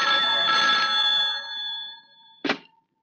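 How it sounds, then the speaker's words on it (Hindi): A telephone rings with a sustained bright electronic tone that fades out, followed by a single sharp thunk, likely a receiver being picked up, with no talking. "मैं अभी इंस्पेक्टर को फोन करके प्रिया को छोड़ने के लिए कह देता हूँ।"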